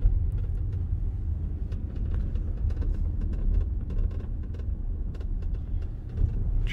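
A car driving forward, heard from inside as a steady low engine and road rumble with faint rattles and ticks above, continuous and moderately loud throughout, with no talking.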